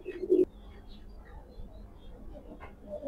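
Young black racer pigeons give one short, close coo near the start, followed by fainter rustling and low murmuring sounds.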